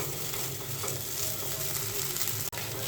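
Bamboo-leaf dried fish sizzles in a pan, a steady dense frying hiss running close and continuous for a few seconds with a brief dip near the end, no voices.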